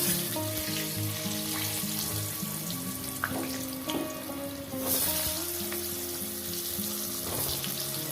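Potatoes fry in a pan for an egg curry, giving a steady, close sizzle that runs the whole time, with a few light stirring knocks and a faint tonal hum beneath.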